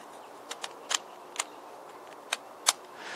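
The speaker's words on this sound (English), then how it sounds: "when you turn a gear, one of the other gears ratchets" Gears on a Gearo puzzle ratchet as it is turned, giving a handful of faint, sharp plastic clicks spaced irregularly in a quiet room.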